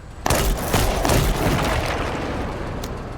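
A grenade launcher fires in a video game, a sharp sudden blast followed by a dense burst of booming explosions and crackling gunfire that trails off into rumbling noise.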